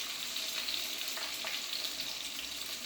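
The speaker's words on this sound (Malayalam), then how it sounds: "നമ്മുടെ ചെറിയ ഉള്ളി, ഷാലറ്റ്, അതിനെ നമ്മൾ വഴറ്റിയെടുക്കുക" Shallots and curry leaves sauté in a pan, giving a continuous close hiss and crackle, with a couple of faint stirring scrapes.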